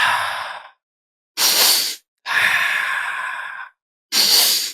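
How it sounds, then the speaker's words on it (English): A man demonstrates an aggressive hunting-style breathing pattern: four forceful breaths alternating long and short, sharp rushing inhales and exhales with silent gaps between them, close and loud. "My breathing pattern usually goes like this."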